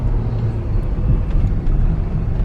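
Low, steady rumble inside the cabin of a diesel luxury SUV, a BMW X5 M50d or Range Rover Vogue SDV6, cruising smoothly, with a constant drone of engine and road noise and no talking.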